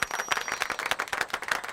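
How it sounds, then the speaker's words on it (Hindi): Villagers clap for a speaker at a rural gathering, a brief, moderately loud burst of many hands in quick uneven strokes, with no talking. "के लिए जोरदार तालियां।"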